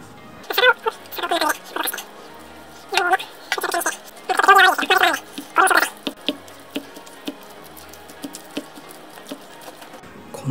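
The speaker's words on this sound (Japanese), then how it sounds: "じゃあまずはかき混ぜていきましょうか。" Mazesoba noodles with natto, canned mackerel and egg yolk stirred in a bowl, producing sticky, wet squelching and slurping bursts in uneven clusters, close and fairly loud, with quieter gaps between.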